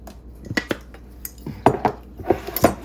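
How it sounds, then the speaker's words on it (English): A teaspoon scoops pudding mix into a meal-prep container, giving a few sharp metallic clinks and taps against the container, close and irregular, with no talking. "I'm gonna add in 1 teaspoon of the pudding mix"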